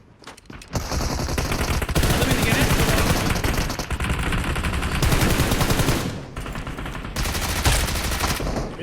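Rapid bursts of automatic gunfire in the mobile battle-royale game PUBG Mobile, loud and dense, running in long strings with brief pauses, a voice talking faintly underneath.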